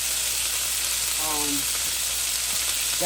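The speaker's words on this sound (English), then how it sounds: "So we're going to let these saute for about 10 minutes" Ramen noodles sautéing in a pan, giving a constant loud broadband sizzle with a brief faint tonal sound in the middle.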